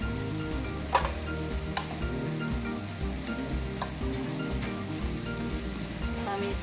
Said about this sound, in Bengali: আমি একটু নাড়া দিয়ে দিই।